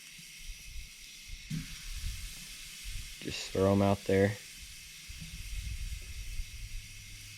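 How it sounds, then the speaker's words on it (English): Dove and pigeon breasts hit a hot grill with a soft, steady sizzle and hiss, faint beneath someone speaking briefly in the middle. "Ooh, sizzling."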